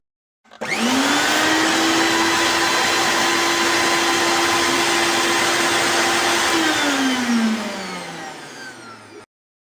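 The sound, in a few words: mixer grinder blending milkshake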